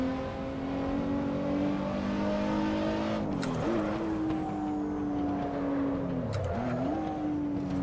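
Nissan GT-R race car engine in the Assetto Corsa racing game, a steady loud droning drive with two brief dips in pitch as the car slows and picks up again, no talk.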